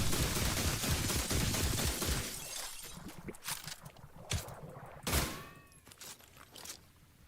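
Backup shotgun-effect weapon firing in The Last Caretaker video game: a dense rattling barrage at first, then scattered sharp cracks and blasts with metallic ringing tails, thinning out toward the end.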